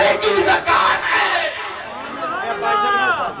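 A large crowd at a Mehfil-e-Milaad religious gathering loudly chants religious slogans together. The voices swell into a rising, sustained unison shout close by.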